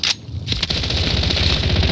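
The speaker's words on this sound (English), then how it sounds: "I'm taking fire!" Rapid automatic gunfire in a duos video game match rattles loud and close, with dense bursts nearly nonstop after a brief opening shot.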